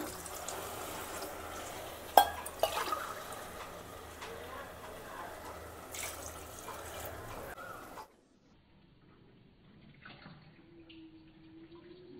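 Water is poured from a glass into a pot of rice that was fried in oil for vegetable pulao. A steady close rush of liquid runs for about eight seconds, then stops, leaving near silence with faint kitchen sounds.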